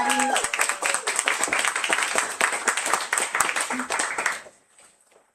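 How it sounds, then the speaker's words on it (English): A round of applause from the audience at a Los Angeles book launch reading: close, lively clapping from a modest crowd that holds steady for about four seconds, then fades out abruptly, with a short voice at the start. "Please, one more round of applause for Chekwube Danladi."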